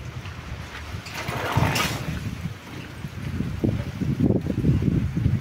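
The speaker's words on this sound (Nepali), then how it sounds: "हावाले पानी जति उडाएर लगिरहेको छ" Strong wind gusts outdoors during a heavy rain shower, blowing the falling water away. A low, buffeting rumble surges and swells unevenly against the microphone, with no voices.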